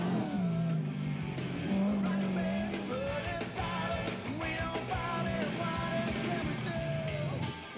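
A Mitsubishi Starion four-wheel-drive rally car with an aluminium sprint-car motor charges through a Woodhill forest safari rally, its engine revving hard and shifting pitch repeatedly, heard fairly faintly and continuously.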